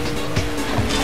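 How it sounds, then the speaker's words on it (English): A car surges with a turbo boost in the Hot Wheels Velocity X video game: a dense, steady roar of engine and rushing noise, loud throughout with brief swells and no talk over it. "Do a turbo boost."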